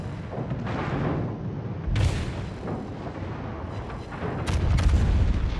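Secondary guns on the battleship Grosser Kurfürst fire in World of Warships. Muffled booming bursts come in clusters over a low rumble, with sharper blasts at a few points and a heavier swell near the end.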